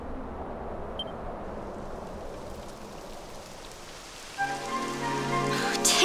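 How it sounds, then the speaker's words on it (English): Steady rain patters on surfaces in the Dragon Quest XI S video game, a dense even hiss throughout, joined near the end by soft sustained musical tones. "It would have to go and start raining, wouldn't it?"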